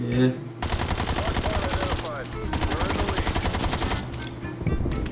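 AMP63 machine pistol firing in Call of Duty: Black Ops Cold War, dense rapid full-auto bursts that run nearly the whole time with a short break partway through, loud and close, with game effects mixed in.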